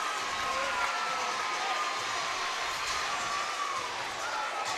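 Crowd cheering at a girls' high school basketball state semifinal, a steady dense roar of voices filling the gym throughout, fairly distant and even.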